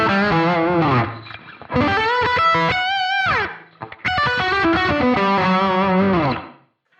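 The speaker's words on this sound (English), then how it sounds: "a distortion block, which is an OD1" An electric guitar played through the OD1 distortion block of a BOSS GT-1000CORE gives loud, sustained overdriven chords and sliding bends in two phrases separated by a brief gap, with no talking over it.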